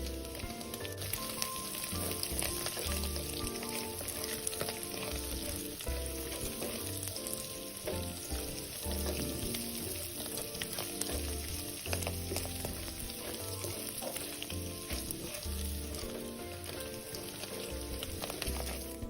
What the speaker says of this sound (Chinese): 一直炒到锅里食材溢出香气后